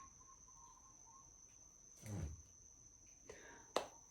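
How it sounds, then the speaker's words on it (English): Crickets chirp in a steady thin trill far back in a quiet outdoor setting, with a couple of brief louder rustles or bumps breaking in. "I'm hearing the birds and the crickets again."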